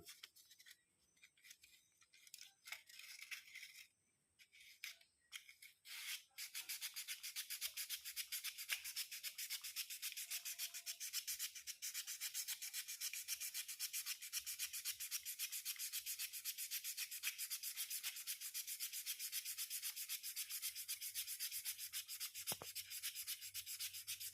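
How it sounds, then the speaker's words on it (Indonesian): Sandpaper rubs steadily on a carburetor part from a Yamaha Vega ZR motorcycle in quick, even back-and-forth strokes for a long stretch, after a few brief scrapes and pauses at the start; nobody speaks. "Oke, kita amplas sebelah sini dulu."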